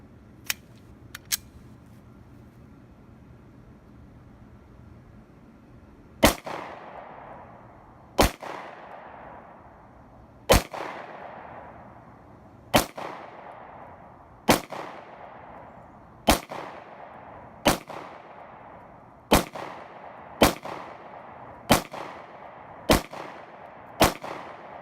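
A Hudson H9 pistol is fired at 21 feet, a dozen sharp, loud single shots at a steady pace of roughly one every one to two seconds, each cracking out and then ringing away in a short echo.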